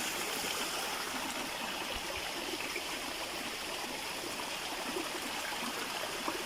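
Spring-fed stream in a village at Barh, Kohat, where water from several springs gathers and runs down to irrigate fields: a steady, continuous rushing and trickling flow, fairly close, with no voices.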